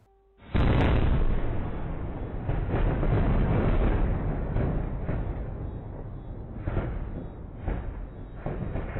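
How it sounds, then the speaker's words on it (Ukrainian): A sudden loud onset of cluster munition explosions over a resort area of Odesa, followed by a sustained roar of overlapping bursts and rumbling blasts that continue throughout. "Ці кадри, як касетні снаряди, розриваються над курортною зоною Одеси"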